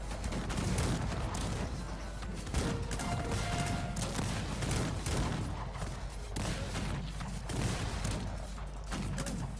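Musket volleys crack out across a Cossacks 3 battle, with dense, overlapping bursts of gunfire and booms that repeat in loud waves over a continuous clamor of fighting.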